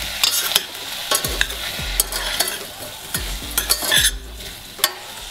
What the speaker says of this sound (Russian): Так, немного перемешиваем и тушить будем примерно 10 минут.